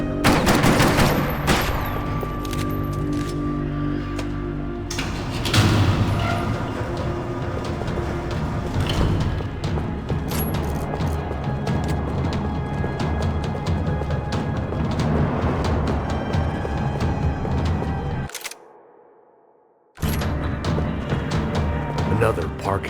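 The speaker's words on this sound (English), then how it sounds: "Another parking lot rattling with gunfire." Heavy gunfire rattles through a parking lot in the video game Max Payne 3. Dense bursts of automatic fire and single shots overlap almost without a break for most of the scene, then drop to near silence before resuming.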